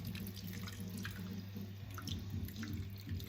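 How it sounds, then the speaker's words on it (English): Water is poured from a tap or jug into a pan of simmering chicken thighs for poaching, giving a steady, continuous splashing stream close by with no talk. "I'm going to pop in now some water"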